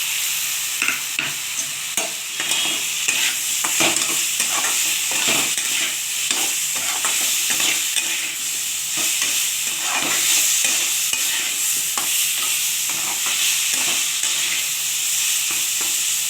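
Tomato paste with salt, turmeric and sugar fries in a pan, giving a steady bright sizzle broken by repeated scraping stirs of a spatula, close and continuous throughout.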